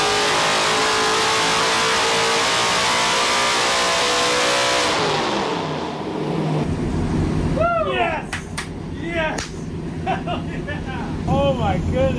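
NASCAR Ford F100 truck with a high-revving race engine on 91 octane, roaring loud and steady, then dropping to a lower idle-like rumble with people talking over it near the end.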